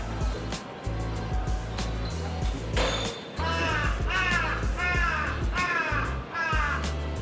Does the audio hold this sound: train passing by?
no